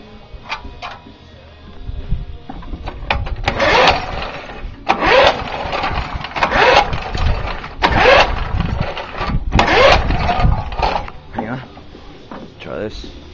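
An old, long-unused small engine with weeds growing on it is cranked cold at full throttle, producing repeated pull-start bursts that sputter without catching, loud and close, with a person talking between attempts.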